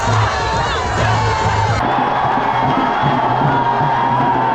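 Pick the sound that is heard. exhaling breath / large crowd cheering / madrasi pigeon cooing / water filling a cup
large crowd cheering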